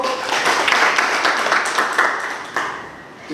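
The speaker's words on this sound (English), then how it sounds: "A round of applause." Audience applause at a Martyrs' Day event, a dense burst of many hands clapping that holds steady and then tapers off toward the end.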